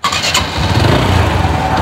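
A TVS Apache motorcycle engine starting, one quick crank that catches into a loud, close, throbbing idle that runs on steadily.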